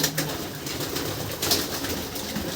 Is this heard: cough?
no